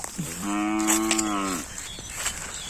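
A fat cow at a farm pen gives one long, loud, close moo lasting over a second, with faint background noise and no talking.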